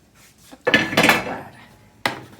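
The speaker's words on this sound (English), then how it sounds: "I'm just sticking them on a sheet pan" Pieces of food are set down on a metal sheet pan with a few dull clattering knocks and scraping contacts, close and fairly loud, followed by one sharper tap.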